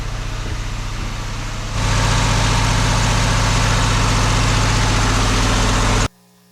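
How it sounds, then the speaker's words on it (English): A generator runs in an off-grid workshop, a loud continuous low engine drone with steady hum that grows heavier partway through, then cuts off abruptly near the end, close by with no talk. "it's loud in here because my generator's running"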